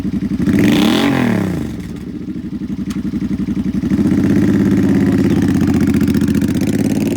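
Used 2009 Suzuki Boulevard C50 middleweight cruiser with a V-twin engine and Cobra pipes, revving up once, then settling into a loud, loping idle with steady pulsing exhaust beats, close and alone.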